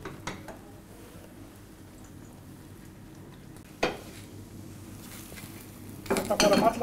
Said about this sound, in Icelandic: ætla bara að malla hérna með hann